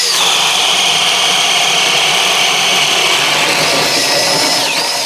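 A Metabo HPT cordless drill runs flat out at high speed, a loud, steady, continuous whine that holds without a break, sagging only slightly in pitch near the end.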